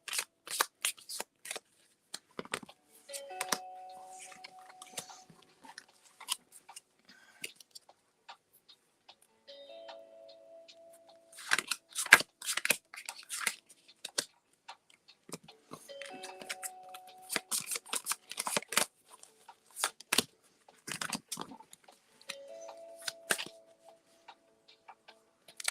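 Playing cards shuffled repeatedly at a table during a tabletop card game, bursts of riffling and flicking with brief pauses, close and fairly quiet, with no talk.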